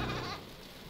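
A goat bleats once in the horror dating game Sucker for Love, a short, fairly loud cry that fades in its second half with no talking over it.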